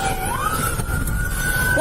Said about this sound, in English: Cut the sirens.